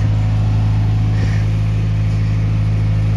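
A John Deere 2520 tractor engine runs close and loud at a steady drone with strong low harmonics while cutting Timothy hay with a New Holland 489 haybine, one brief dip near the middle.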